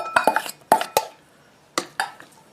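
A spoon knocks and scrapes against a stainless steel rice cooker pot while white onions are stirred in, giving several sharp clinks in two quick clusters separated by a short pause, close and fairly loud.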